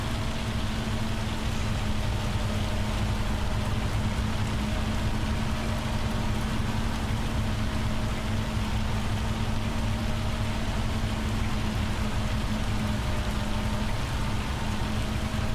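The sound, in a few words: hailstones falling in Farming Simulator 25 video game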